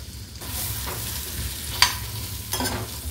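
Chopped onions for a Hyderabadi paneer dish fry in a pan with a continuous close hissing sizzle, punctuated by a couple of sharp stirring clinks, with no speech.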